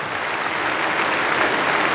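Steady applause from a cricket crowd at a women's T20 match between England and Sri Lanka at the Commonwealth Games, a dense, even wash of clapping holding at a constant level for the full two seconds with no voices.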